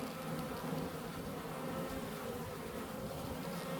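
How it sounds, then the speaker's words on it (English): Honey bees at their hive make a dense, unbroken buzzing drone, many insects humming together close by at an even, steady level with no voices. "Some good looking bees."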